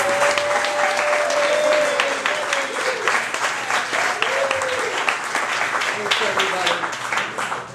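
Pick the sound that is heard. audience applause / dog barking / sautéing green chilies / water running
audience applause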